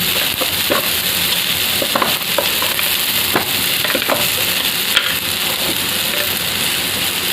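Chickpea curry frying in a pan, a steady sizzle running throughout with intermittent scraping clicks of a spoon stirring through it, close and fairly loud.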